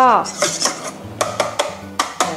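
Sauce being whisked in a bowl for a fried shrimp dish with lemon cream sauce: sharp metallic clinks and scrapes of the whisk against the bowl in an uneven rhythm, close and clear.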